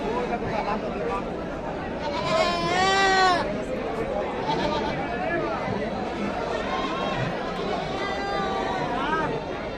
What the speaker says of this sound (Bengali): বিক্রি হওয়া সব ছাগল এখানে আছে সব বাঁধে রাখা আছে